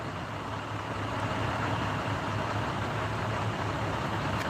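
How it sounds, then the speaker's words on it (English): A diesel truck idles close by at an urban roadside, a steady low rumbling drone with broadband engine noise that holds constant throughout, with no talking. "The fact that he's idling it next to me, though, is kind of annoying. All the extra noise from the diesel."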